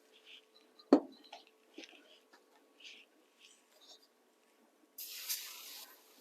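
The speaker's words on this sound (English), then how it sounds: "Okay, so give them a quick spray." Cooking spray hisses onto baking trays in one short, close burst near the end, after a sharp clunk and some quiet handling noises in a kitchen.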